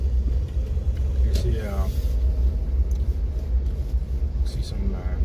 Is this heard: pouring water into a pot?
no